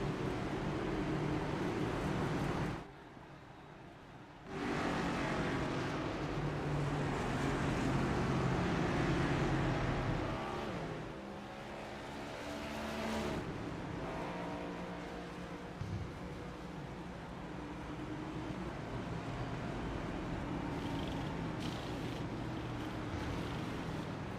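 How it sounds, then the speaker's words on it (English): Race cars in the iRacing sim rolling down pit road at Charlotte Motor Speedway, a steady broadband engine and road roar that holds loud throughout, dipping briefly before surging back, with no talk over it. "All right, lead lap cars are coming down pit road."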